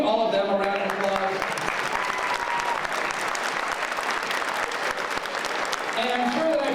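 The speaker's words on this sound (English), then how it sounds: "So let's give all of them a round of applause." Audience applause at a school Christmas concert, a steady dense wash of many hands clapping that fills the whole stretch, with brief voices or tones at the start and end.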